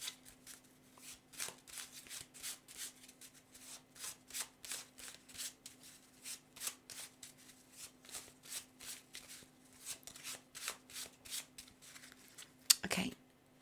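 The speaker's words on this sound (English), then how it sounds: "let's take some cards from this Feelings and Messages deck" A Feelings and Messages card deck is shuffled by hand, producing a long run of quick papery riffles and flicks in a steady rhythm, close and fairly quiet over a low hum, ending in a sharper rustle.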